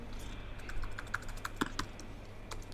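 Rapid clicking keystrokes on a computer keyboard, a quick irregular run of close, crisp taps with a few louder presses, no speech.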